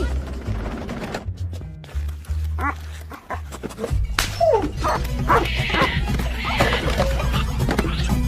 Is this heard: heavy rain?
no